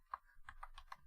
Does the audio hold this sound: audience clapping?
no